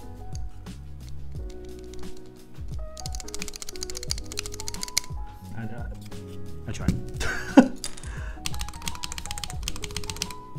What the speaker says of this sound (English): This is me the first time we hear one of the stabilizers.